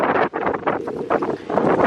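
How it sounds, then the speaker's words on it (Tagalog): Strong wind buffets the microphone in loud, uneven gusts, rumbling and roaring with brief dips. "Oh, it's so windy"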